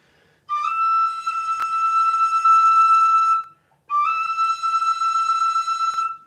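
A tin whistle sounds a feathered E, a finger barely covering a small part of the hole, giving two sustained breathy notes with a slight edge, the first about three seconds long, a short gap, then a second held note.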